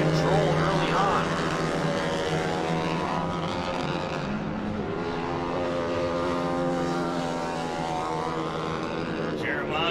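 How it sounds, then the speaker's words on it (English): Off-road short course race cars fitted with 450 four-wheeler engines, racing in a stadium at Crandon, buzz and whine with rising and falling pitch as they pass, loud and continuous under a commentator's voice. "450 four-wheeler engines on these cars. They get up and go."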